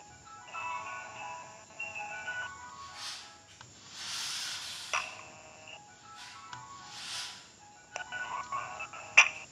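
A mobile phone rings in a room, its bright warbling electronic tone sounding in repeated bursts with brief gaps, moderately loud and close, with a few hissy noise swells between the rings.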